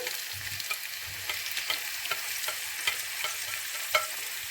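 Tomatoes hiss softly in warm oil as a utensil scrapes and taps the pan in a loose, repeated rhythm, the frying quiet and close with no talk over it.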